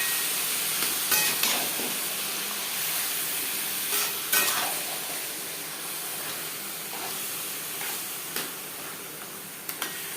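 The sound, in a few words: stirring taro leaves with spices in a frying pan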